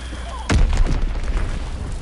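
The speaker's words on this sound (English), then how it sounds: "Enemy bomb incoming." Enemy bomb in the Call of Duty video game, a single loud boom that bursts in suddenly and then trails into a rumbling decay over a background of game noise.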